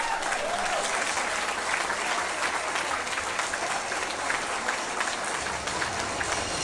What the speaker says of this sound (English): So, how about a big round of applause for all these folks?